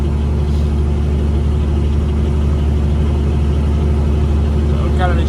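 Vehicle engine pulling uphill at about three-quarter throttle, heard from inside the cab as a loud, steady low drone and rumble, with a brief voice near the end.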